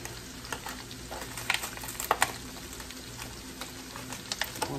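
Onions and portobello mushrooms fry in a pan with a steady close sizzle, broken by intermittent scraping stirs and small pops, and no one speaks.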